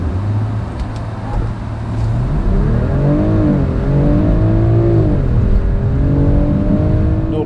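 A 2025 BMW X5 50e plug-in hybrid SUV with a B58 engine accelerates hard from a standstill, its engine and electric whine rising in pitch through gear changes, loud and steady from inside the cabin.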